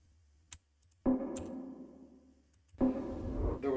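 Computer keyboard and mouse clicks, a few sharp isolated ticks followed by two louder bursts of clicking and rustle, close and fairly quiet, with no voices.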